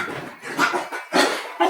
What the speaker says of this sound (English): Does anybody else's dogs get crazy when it's supper time and they go play fight with each other?